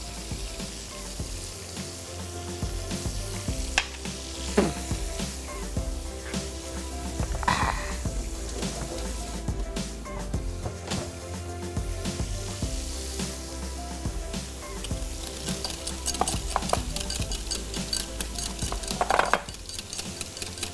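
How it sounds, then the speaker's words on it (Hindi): Minced-meat kebabs shallow fry in a little oil, a steady crackling sizzle over about twenty seconds, punctuated by occasional clinks and scrapes of a spoon against the pan. "इन कबाबों को शैलो फ्राई करना है हल्के से ऑयल के साथ"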